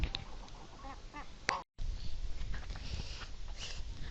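Ducks at a village pond, several soft quacks and calls scattered over a faint outdoor background with rustling and a brief dropout in the middle.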